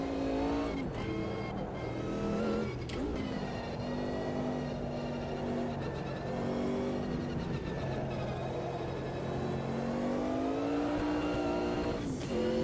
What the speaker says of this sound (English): Just love the transmission chatter on this thing.